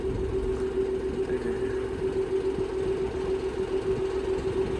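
A John Deere 5075E tractor engine runs at a steady idle nearby, a continuous even drone with a low throbbing rumble and no voices.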